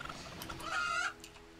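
Chickens in the video game RimWorld give a brief cluck, a single quiet clucking call in the middle of a short stretch, heard alone.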